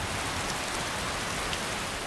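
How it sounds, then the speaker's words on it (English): Steady rain pours down in the video game Skyrim near a Civil War checkpoint, a constant dense hiss of drops that holds evenly throughout with no talking. "Now this rain is really cold."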